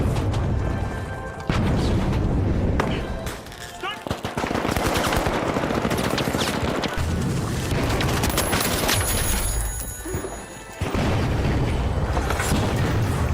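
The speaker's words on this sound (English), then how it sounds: "Frag grenade set!" Chaotic combat in The Finals: a frag grenade blast amid rapid machine-gun bursts, heavy booms and crashing debris, loud and nearly continuous with brief lulls.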